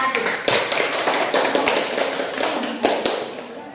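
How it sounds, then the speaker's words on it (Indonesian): A classroom of students claps for a student group after its presentation, a brisk burst of many hands with a few sharper slaps standing out, close and loud before tapering off. "Beri tepuk tangan buat kelompok"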